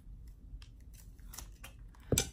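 Scissors snipping open the packaging of a Sensationnel Terri 4x4 fringe frame wig: a few faint, soft cuts followed by one sharper, louder snip near the end, close up, with no talking.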